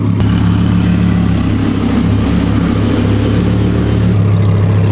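A straight-piped Audi R8 engine holds a loud, steady, deep idle-to-rev drone, close and raw, with a brief blip near the start and no talking.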